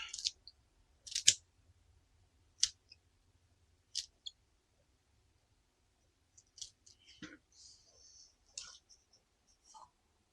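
Shears snip off plant roots in a greenhouse, a handful of quiet, crisp clicking cuts spaced apart with soft handling rustles between them.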